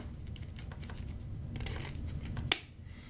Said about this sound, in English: I put my finger in there and I cut at the top.